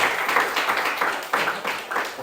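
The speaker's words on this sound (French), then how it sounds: "Applaudissons pour le Seigneur encore une fois" A church congregation applauds together, a steady wash of many hands clapping in uneven bursts that swell and dip across a couple of seconds, fairly close and continuous.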